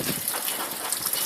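Water gushes steadily from a hose onto a boat's outboard engine leg, a dense continuous splashing rush that stays loud and close throughout with no voices over it.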